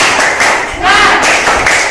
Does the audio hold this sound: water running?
no